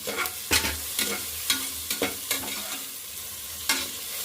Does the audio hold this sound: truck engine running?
no